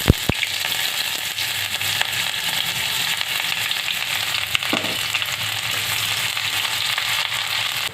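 Onions with a bay leaf frying in hot mustard oil in a wok, a loud continuous sizzle after two sharp clicks at the start, with no voices.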